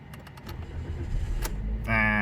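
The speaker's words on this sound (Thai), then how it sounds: "เราทำการสตาร์ทเรียบร้อยนะครับ เครื่องยนต์ติดนะครับ" A Toyota Yaris Ative engine cranks and starts near the end, after faint key rattles and low rumble, then settles into a steady idle with a clear tonal hum.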